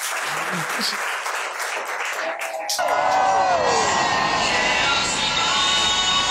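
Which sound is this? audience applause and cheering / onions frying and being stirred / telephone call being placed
audience applause and cheering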